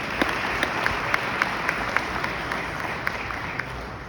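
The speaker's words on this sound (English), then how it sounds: "Please give him a round of applause." An audience applauds a Fairmont State Hall of Fame inductee, a short run of steady clapping with a few sharper, closer claps standing out over the crowd's wash.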